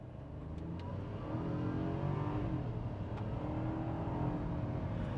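A 2022 Kia Rio GT-Line hatchback with a dual clutch transmission accelerates hard up a hill, its engine note building into a loud, sustained drone heard from inside the car.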